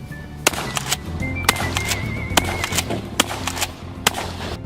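Dragon's breath incendiary shotgun cartridges loaded with pyrophoric material being fired: a quick string of loud, sharp reports in an irregular rhythm over a dense, roaring rumble, with a brief tonal whine partway through.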